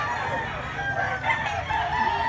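Gamecocks crow and cluck at an outdoor chicken market in Mantalongon, Cebu, the crowing drawn out and fairly near over a busy background murmur of birds.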